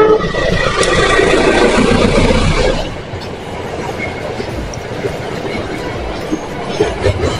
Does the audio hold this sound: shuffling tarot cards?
no